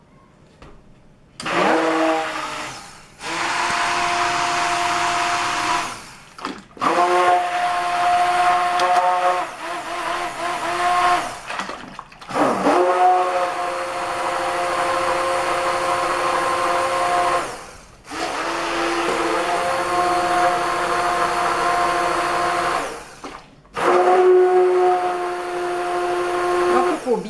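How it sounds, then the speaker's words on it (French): Blender mixing cranberry yogurt with milk powder and ferment, loud whirring in five long bursts separated by short pauses, with a single brief word spoken between them. "Ensuite, et ben voilà, je mixe."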